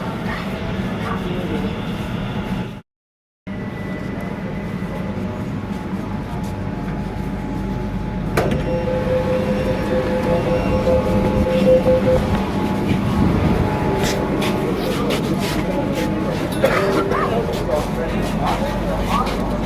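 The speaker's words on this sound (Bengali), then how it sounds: "এবারে কিন্তু এসপ্ল্যানেড যাওয়ার ট্রেনটা আসবে" A Kolkata metro train rumbles into an underground platform, its low mechanical roar building and swelling louder partway through, with brief station chimes and a faint voice beneath.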